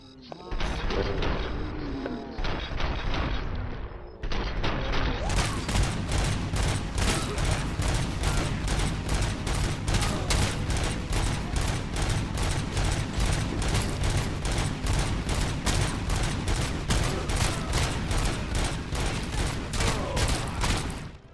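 Sustained automatic gunfire in the video game Robocop Rogue City, a dense, loud, rapid stream of shots hammering continuously for most of the stretch after a brief lead-in of mixed game noise.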